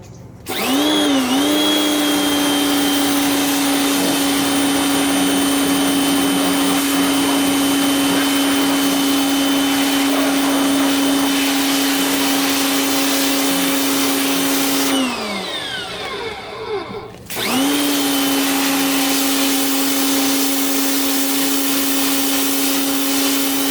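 Harbor Freight electric pressure washer running at close range, a loud steady motor whine with a spin-up at the start, a brief shutoff and wind-down about two-thirds through, then a restart and steady running to the end.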